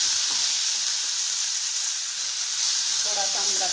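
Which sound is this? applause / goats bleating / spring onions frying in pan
spring onions frying in pan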